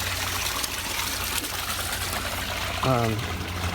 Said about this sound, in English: I got the water going now.